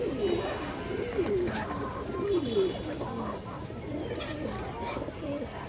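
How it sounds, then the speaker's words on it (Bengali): Large green-necked pigeons at a seller's coop coo repeatedly in soft, throaty rolling calls, with other birds murmuring around them and someone talking over the cooing throughout. "একটা বড় সাইজের সবুজ গলা কবুতর আছে দেখেন"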